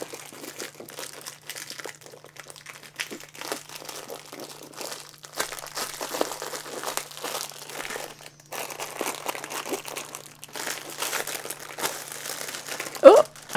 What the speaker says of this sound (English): Oh, so much cellophane.